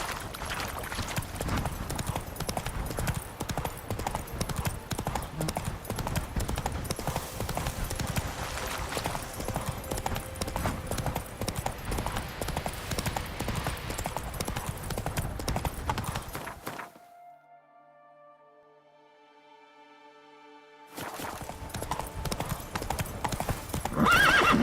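Roach the horse in The Witcher 3 walks with steady clip-clop hoofbeats and gives a whinny, the hooves continuing throughout. A brief silent gap interrupts the sound before it resumes.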